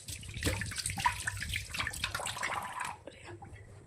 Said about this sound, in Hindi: इसको धो लेंगे पहली बार